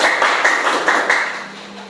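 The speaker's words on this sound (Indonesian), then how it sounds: "silakan tepuk tangan untuk Natalia dulu." A classroom of students applauds a classmate's presentation in one brief, dense burst of clapping that fades toward the end.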